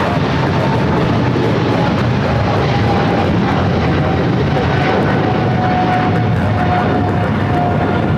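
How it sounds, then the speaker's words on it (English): A Boeing 777-300ER jet airliner bound for London Heathrow takes off at LAX, giving a continuous loud rumbling roar with a thin engine whine held steadily above it. "the flight heading to London Heathrow, the 777-300ER"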